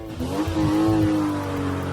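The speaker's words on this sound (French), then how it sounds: "Waouh, cette voiture est tellement rapide." A cartoon race car accelerates off the starting line, a revving engine whine rising and holding steady, loud and close for about two seconds with no talk.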